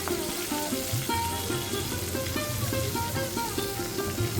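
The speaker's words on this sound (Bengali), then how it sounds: "পটলগুলোকে আমি ঠিক এই রকমভাবে ভেজে রেডি করে নিলাম" Pointed gourd (potol) pieces fry in hot oil with a steady close sizzle and crackle, accompanied by occasional stirring clinks.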